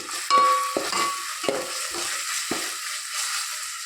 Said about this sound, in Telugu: ఇలా లో ఫ్లేమ్లోనే ఉంచుకొని కొంచెం మన కలర్ చేంజ్ అయ్యేంత వరకు వేయించుకుంటే ఆ ఫ్లేవర్ చాలా బాగుంటుందండి.